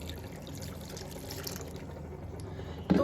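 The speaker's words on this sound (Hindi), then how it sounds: "तो सबसे पहले हम पानी को ऐड करेंगे इसमें।" Water trickles and pours steadily into maize flour in a bowl while dough for makki ki roti is being prepared, a soft continuous liquid wash ending in a brief louder splash.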